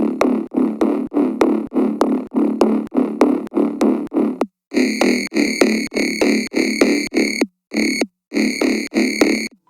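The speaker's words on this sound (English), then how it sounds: "The vocal quality stems exclusively from this distortion effect set to downsample." A buzzy synth bass with downsample distortion plays a fast, even rhythmic pattern of short notes, its tone gritty and digitally crushed, shifting to a brighter, harsher timbre partway through.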